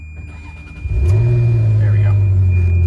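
A Ferrari engine cranks and catches, then settles into a loud, deep rumbling idle close by, with a brief spoken remark over it.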